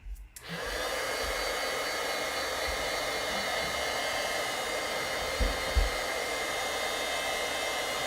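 A craft heat tool warms ink on a crafting surface, starting abruptly and then blowing as a loud, steady, close whir that holds through the whole stretch, with a couple of faint knocks near the end.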